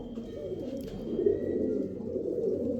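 Soft, steady cooing of pigeons fills the clip, low and continuous, with a faint chirp near the start and no talking.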